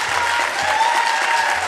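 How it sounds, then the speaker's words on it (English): A debate audience applauds steadily, a dense wash of many hands clapping at once, loud and continuous throughout the short burst with no voices over it. "I've got to ask the audience to please refrain from clapping"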